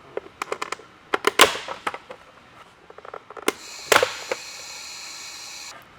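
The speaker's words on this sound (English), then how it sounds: "get this upper part of the mirror off, and it's really simple" Plastic upper mirror cover on a 2016-2023 Toyota Tacoma being pried off by hand, heard as a series of sharp clicks and snaps, with a couple of louder pops amid quiet handling noise.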